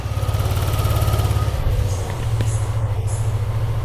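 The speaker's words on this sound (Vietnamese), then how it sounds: "Vâng, tôi đã nổ máy ạ." A motorcycle engine runs close by during an exhaust-emissions check, its idle a loud, steady low pulsing that stays constant throughout with no talking.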